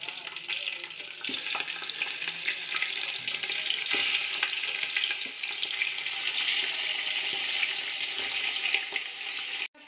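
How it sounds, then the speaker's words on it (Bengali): Washed chicken pieces for a korma go into a hot pan with bay leaf and whole cumin. They give a steady, close, loud sizzle and crackle that runs unbroken for nearly ten seconds, with faint scrapes under the hiss. "ধুয়ে পরিষ্কার করে রাখা চিকেন গুলো একে একে দিয়ে দেব"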